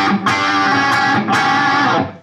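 Distorted electric guitar through a modified Marshall 1959 amplifier, sustained chords ringing loud and close with two sharp restrikes, no talking.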